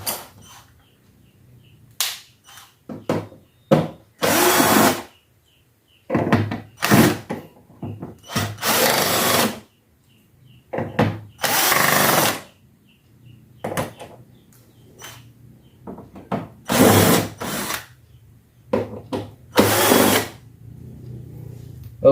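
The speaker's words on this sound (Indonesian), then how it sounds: "Untuk membuka baut kita pakai torsi yang satu aja ya, cukup untuk membuka cover TV ini." A power screwdriver backs out the screws on the rear cover of an LG 32LH500D LED TV that has gone completely dead, firing in about ten short, loud whirring bursts with brief pauses between them and no talk.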